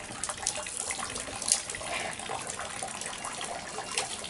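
Water is poured over hands at a temple purification fountain in Japan, a steady soft trickle and splash with a faint outdoor background.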